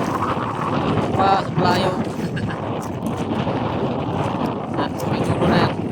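Strong southerly wind buffets a small boat out on choppy open sea, a steady roar of gusts and wind on the microphone throughout, with people talking over it.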